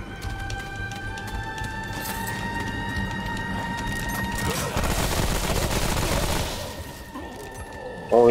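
Gunfire in the video game Remnant: From the Ashes during a boss fight: a dense, continuous rattle of rapid shots over steady game music tones, swelling louder near the end.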